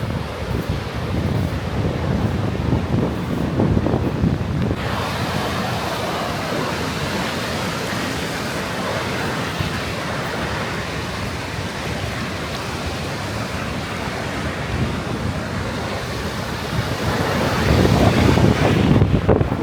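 Sea waves wash continuously against the coast of Crete, a steady rushing surf mixed with gusty wind buffeting the microphone, swelling louder near the end, with no voices.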